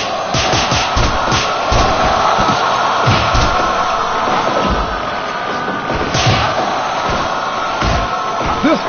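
A large indoor arena crowd at a capacity pro wrestling event roars and shouts continuously, with overlapping yells, bursts of cheering and occasional thuds, loud and close throughout.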